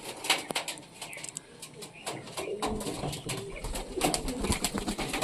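Young pigeons in a loft coo softly in short, repeated bursts over a faint background murmur, close and fairly quiet.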